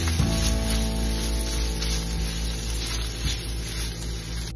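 Garlic butter shrimp with green chillies frying on medium heat, a steady continuous sizzle and crackle throughout with a faint low hum beneath, no talking.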